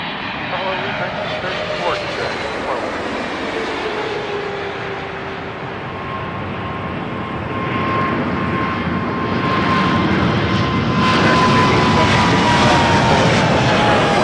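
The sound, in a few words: airplane jet engines taking off at Toronto Pearson Airport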